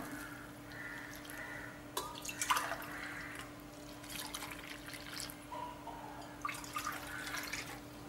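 Water pours and trickles into a vessel in short bursts, with gentle splashing and dripping against a steady low hum.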